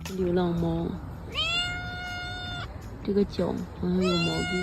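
A cat meows repeatedly in long, drawn-out wavering cries separated by short gaps, loud and close, with a voice speaking between and under the calls.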